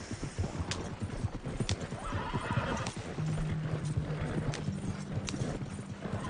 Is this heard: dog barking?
no